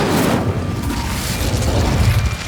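A fire spell cast in the video game Hogwarts Legacy gives a loud, close whooshing roar with a low rumbling boom, sustained throughout without speech.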